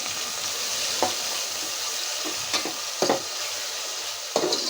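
Onion and dried fish fry with salt in a pan, giving a constant loud sizzle with a few soft stirring knocks scattered through it.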